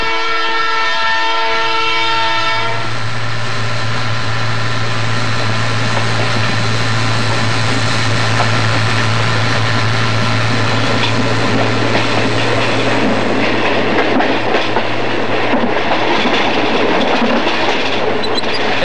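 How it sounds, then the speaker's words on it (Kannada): A train at a station sounds a long, loud horn blast, then a heavy rolling rumble and clatter builds as it pulls away, with a low steady engine drone underneath throughout. "ಬೇಗ ಇಳಿ, ಟ್ರೈನ್ ಹೊರಟೋಗ್ಬಿಡುತ್ತೆ, ಇಳಿ"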